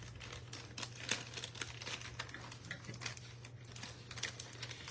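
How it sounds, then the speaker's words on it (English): Candy wrappers crinkling while Halloween treat bags are filled with sweets, a steady close rustle with sharper crackles scattered throughout and a low hum underneath. "sorry for the crinkling, but it's just part of it"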